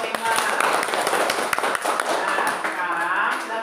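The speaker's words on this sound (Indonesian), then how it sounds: "Tepuk tangan dulu untuk kelompok 5." Classroom applause for a student group, a brisk patter of many hands clapping close by with voices talking over it.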